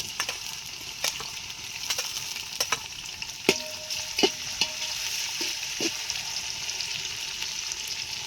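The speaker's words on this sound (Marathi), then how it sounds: "टोमॅटो पण चांगला असा तेलात भाजून घ्यायचा" Tomatoes and onion fry in oil on a village-style clay stove, producing a constant bright sizzle with scattered spatula taps and scrapes against the pan.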